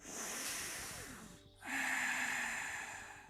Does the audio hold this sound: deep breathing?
yes